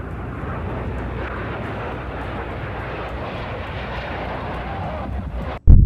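Aerobatic jet planes roar steadily at an air show, a loud broadband engine wash sustained for several seconds before a brief cutout and a sharp, louder burst at the very end.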